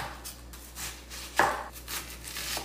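Knife chopping an onion into little slices for Frito pie chili, a few soft irregular cuts with one sharper chop midway, fairly quiet.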